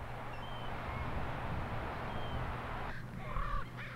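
Eagles perched on driftwood along the Alaska shore give a few short calls near the end, rising over a steady low outdoor rumble.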